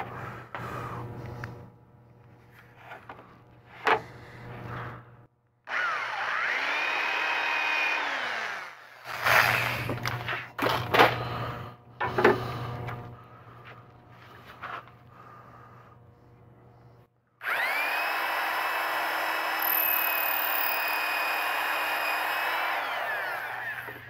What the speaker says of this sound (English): Now I got the countersink plugged in, so I'm just going to countersink it first.